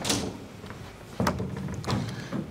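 A door is opened indoors, with a couple of short knocks and latch clicks rising over a low room hum, faint and brief.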